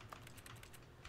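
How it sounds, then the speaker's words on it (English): Video-game interaction sound in The Stanley Parable while holding the E key, a quiet, rapid run of keyboard-like typing clicks with an even rhythm, heard alone. "Sounds like I'm typing something when I just hold E."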